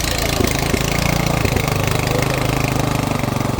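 A motocultivator engine runs steadily just after being started, a close, loud, rapid chugging throb with an even pulsing rhythm and no voices over it.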